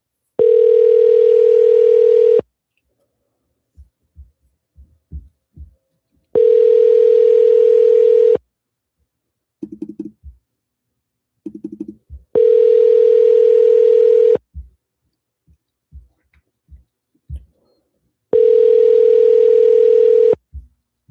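Ringback tone on an outgoing sales call: four identical steady electronic rings, each about two seconds long and evenly spaced by silence, with faint handling clicks in the gaps.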